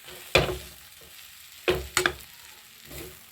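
Chapati noodles being mixed in a pan: a few sharp scraping stir strokes, close and fairly loud, over a soft background sizzle, with no talking.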